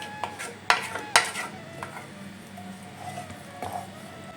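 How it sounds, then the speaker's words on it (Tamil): A spoon clanks and scrapes against a cooking pot while stirring a beetroot pulao mixture with added water, with a few sharp metallic knocks early on followed by softer scraping. "இது ஒரு முறை நல்லா கலந்துக்கலாம்."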